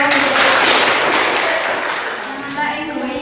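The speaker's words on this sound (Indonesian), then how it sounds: "Baik, tepuk tangan." A classroom full of students breaks into steady, dense applause, loud and close, that holds for a few seconds and then gradually thins out.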